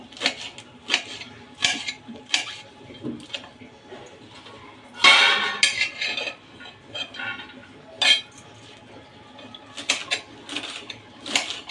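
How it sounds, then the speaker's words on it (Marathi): A knife chops washed safflower (kardi) greens finely on a board, a run of quick, irregular close taps and scrapes, some louder bursts, with no speech. "ती बारीक कट करून घेऊ एकदम बारीक अशी कट करायची आपल्याला"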